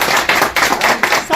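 Loud, close clapping from a crowd at an oath-taking ceremony, coming in strong rhythmic surges of many hands about every half second.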